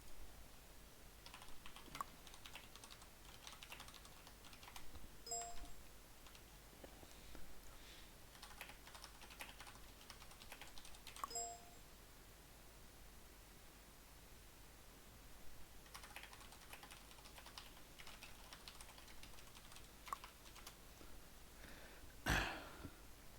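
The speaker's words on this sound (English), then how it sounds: "It's a nice keyboard you got there. A mechanical, proper, clicky one" Clicky mechanical keyboard typed in quick, irregular bursts with pauses between, close and fairly quiet. A throat clear sits in the mix.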